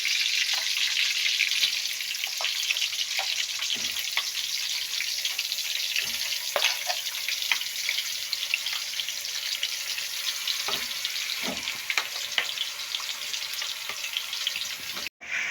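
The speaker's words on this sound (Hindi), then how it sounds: "कीमा सारा मैंने इसमें डाल दिया है। अब अच्छी तरह से इसे फ्राई करेंगे।" Minced keema sizzles steadily in a pan with spices, a continuous close frying hiss punctuated by scattered stirring clicks and scrapes.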